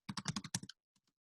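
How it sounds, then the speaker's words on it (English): A quick burst of about seven crisp keystrokes on a computer keyboard comes close and clear, then two faint taps follow after a short pause. "let me just finish typing this before I explain it"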